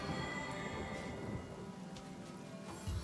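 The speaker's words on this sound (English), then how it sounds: "That's why I made it rain." Steady in-game rain hisses loudly throughout, with low rumbling thunder rolling underneath and a brief heavier rumble near the end.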